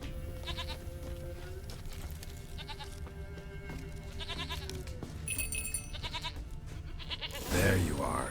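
Goat in The Witcher 3 video game, repeated close wavering bleats over steady in-game ambience, followed by a brief louder burst near the end.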